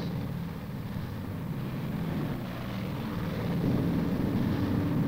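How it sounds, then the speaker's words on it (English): B-29 bombers taking off from bases on Okinawa give a steady, loud propeller-engine roar that swells slightly toward the end, with no voices. "Day after day, plane after plane, the B-29s roared up from their Okinawan bases."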